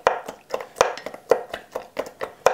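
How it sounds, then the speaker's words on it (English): Back of a spoon muddling mint leaves in a glass, a quick series of soft, dull taps and knocks in a steady rhythm, close and alone. "And then I'm gonna take the back of my spoon and just kind of beat this up a little"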